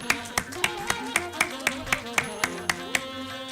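Applause in a university auditorium during a symposium award ceremony, heard as a steady, evenly spaced run of sharp claps keeping a brisk rhythm.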